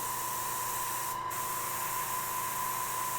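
An airbrush sprays paint lightly for weathering on an E-Flite F4 model airplane, giving a steady close hiss with a constant tone running beneath it and a brief dip partway through.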